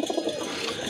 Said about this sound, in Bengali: মাদিটা উড়াই দেখাই দেব কবুতর কিভাবে দাঁড়ায়, কোয়ালিটি কেমন আছে